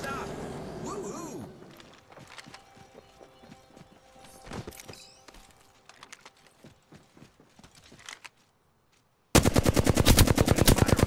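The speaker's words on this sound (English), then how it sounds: "Opening fire on the enemy." Gunfire from the video game Apex Legends comes as scattered sharp shots and bursts over game sounds, and a loud rapid burst of automatic fire ends the clip.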